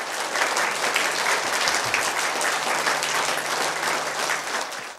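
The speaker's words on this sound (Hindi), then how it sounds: "जोरदार तालियां।" An audience at a Buddhist vihara gathering breaks into loud, sustained clapping that stays dense and even throughout before it begins to taper at the very end.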